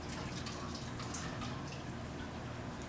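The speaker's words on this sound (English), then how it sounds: "you can add it to the water in your vessel." Tea pouring into water inside a one-gallon sun tea pitcher for kombucha, a steady close trickle and splash of liquid running throughout at a moderate level.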